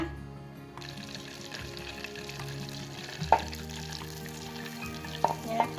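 Butter melting and boiling in a pot on the stove for financier batter, a steady low bubbling sizzle that holds throughout with a few small clinks near the end.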